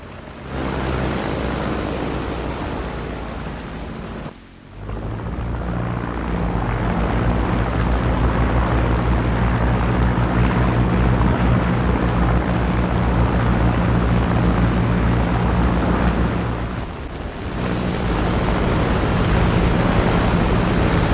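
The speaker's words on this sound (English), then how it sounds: "Japanese bombers were approaching the Lexington and Yorktown" Japanese bomber aircraft engines in a War Thunder battle give a steady, loud, broadband drone that holds throughout, with brief dips near the start and again later on.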